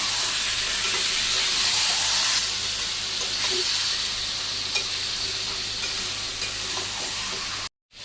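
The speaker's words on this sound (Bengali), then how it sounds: "মাংসটা আমি এখন ভালো করে কষিয়ে নিই।" Chicken pieces fry hard with onions in a hot pan for a Bangladeshi home-style curry, a loud, dense hiss and sizzle with occasional stirring scrapes, easing slightly after a few seconds before cutting off abruptly near the end.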